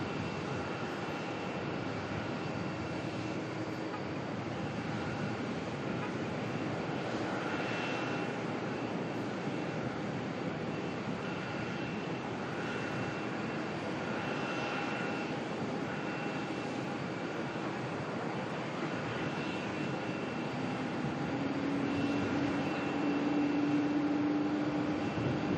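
Singapore Airlines airliner taxiing at Melbourne Airport, a steady broadband engine roar with whining tonal hum, continuous and fairly near, swelling slightly louder toward the end, with no talk.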